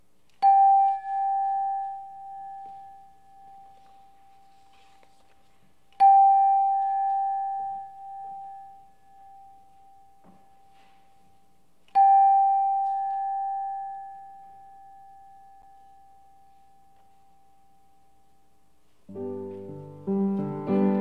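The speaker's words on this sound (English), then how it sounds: "we begin this time together with the ringing of the bell and the time for centering" A bell rings three times at evenly spaced intervals to open a church worship service, each pure tone sustaining and fading slowly in a quiet room, followed by the start of soft organ-like music.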